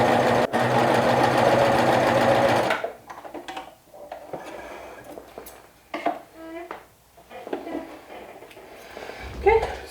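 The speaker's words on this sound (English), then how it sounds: "stitch, making sure that you catch the whole hem under all 3 needles" A coverstitch machine sews a hem with three needles, a steady loud mechanical whir that stops after a few seconds, followed by quieter handling clicks and faint fabric rustling.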